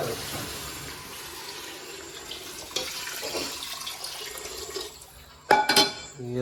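Water poured into a pan of mushroom curry, a running splashy pour close by, ending in a louder burst of splashing and clinks.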